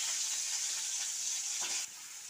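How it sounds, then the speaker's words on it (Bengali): Prawns frying in hot oil in a wok, seasoned with salt and turmeric: a steady, close hiss of sizzling that holds throughout and drops slightly near the end, with no talk. "এই দেখুন প্রথমেই আমি চিংড়ি মাছটা ভেজে নিচ্ছি"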